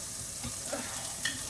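Garlic fries in a pan, a soft continuous sizzle with light stirring scrapes, fairly quiet and close.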